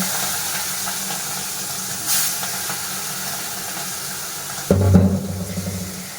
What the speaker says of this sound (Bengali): এইবারে চিংড়ি মাছটা ভেজে নেব।